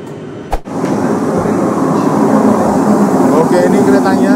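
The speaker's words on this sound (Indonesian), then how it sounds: "ini keretanya masih kereta cepat ternyata" Steady rumble and rush of a Japanese high-speed train in motion, heard from inside a carriage as a continuous loud drone after a brief knock near the start.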